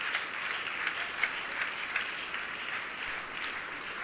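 Church congregation applauding during a worship service, a steady crowd of hands clapping at moderate distance, continuous and even without speech on top.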